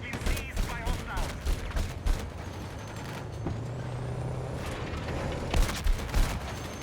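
Gunfire in the Battlefield 6 video game: bursts of rapid shots in quick succession early and again near the end, with a heavy rumble of vehicles and battle noise between them, loud and close.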